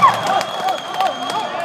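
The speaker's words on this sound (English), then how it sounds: "Good smash, and now the crowd is alive." A volleyball crowd at an international tournament roars after a smash, a steady wash of cheering and clapping with a few shrill whistles cutting through, brief and fairly loud.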